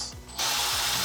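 A ratchet clicks close up as it loosens bolts from the radius arm bracket on a vehicle frame, a short, steady burst of rapid pawl ticks with no talking.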